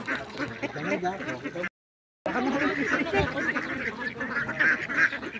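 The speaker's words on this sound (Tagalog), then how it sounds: "At meron nga sila ditong duck pond, ayan." A crowd of ducks quacks continuously at a duck pond, the honking calls loud and overlapping throughout, briefly cut out for a moment, with faint voices mixed in.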